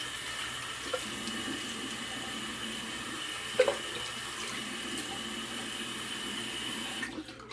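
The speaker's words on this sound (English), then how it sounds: "Go ahead and rinse off real quick." A bathroom tap runs steadily into a sink while someone rinses off after a straight-razor shave, with a constant moderate water hiss and a few faint splashes and clinks.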